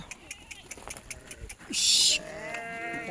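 A sheep bleats loudly once amid background voices and rustling, with a shorter bleat-like cry following.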